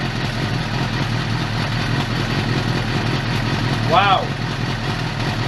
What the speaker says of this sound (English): A little lumpy sounding, but could just be because the bike hasn't been running for a while.